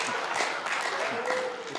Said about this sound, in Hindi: सर ताली मत बजाओ, उड़ जाएगी।